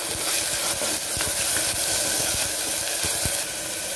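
Ginger garlic paste stirred into frying onions in a pan while cooking a mutton curry, giving a steady, loud sizzle and hiss with occasional scraping clicks of the spoon throughout.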